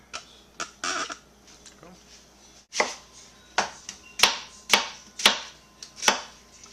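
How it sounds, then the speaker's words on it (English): Vegetables for chili are chopped on a board with a knife, a series of sharp, evenly spaced chops growing more regular and pronounced, close up, with a few lighter taps early on. "So I'm going to go ahead and whack up all these vegetables"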